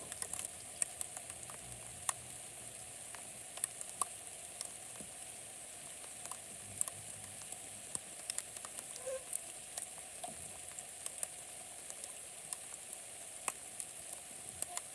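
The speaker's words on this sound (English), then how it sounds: "Yeah, it's raining pretty hard." Heavy rain falling at night outdoors in New Brunswick, Canada, a steady dense patter with scattered sharper drips on nearby surfaces, continuous and fairly faint, no talking.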